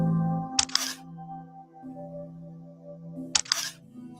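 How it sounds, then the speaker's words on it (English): Two crisp camera shutter clicks from a shutter sound effect, one near the start and another about three seconds later, each a sharp double snap over a quiet tonal hum. "we don't need the fake shutter click there"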